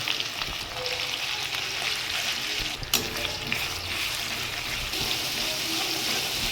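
A paste of ginger, green chilli, poppy seed, cashew and charmagaz fries in oil in a pan for soybean curry, crackling steadily with a few sharp stirring clacks and no voices.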